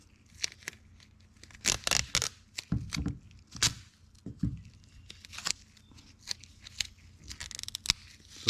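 Tape is pulled off the roll and torn while trimming side trim on a 1957 Chevy 210 four-door, giving irregular ripping and crinkling bursts, close and fairly quiet, with no talk.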